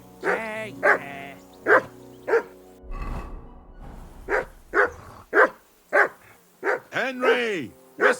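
Near, loud barking from a dog in Kingdom Come Deliverance 2 repeats steadily, more than a dozen barks with a brief pause in the middle. Talk runs alongside at times.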